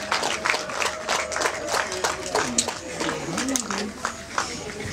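A church congregation at a wedding service applauds in a steady, dense patter of clapping that runs the whole time, with a voice speaking over it.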